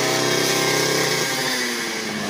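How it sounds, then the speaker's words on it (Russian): Motorized grass cutting with a power trimmer beneath a balcony, a steady, loud high-pitched engine whine that holds throughout and eases slightly toward the end. "тут что-то под балконом пилят траву"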